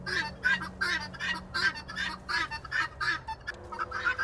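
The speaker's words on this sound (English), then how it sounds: "can't you tell your birds to be quiet and they'll listen?" Farm birds, likely ducks or geese, quack and honk noisily in a rapid run of close, loud calls about twice per second, some calls overlapping, over a low background hum.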